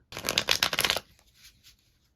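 Tarot cards being shuffled: a close, brisk riffle of papery flicks for about a second, then a few soft, faint card taps.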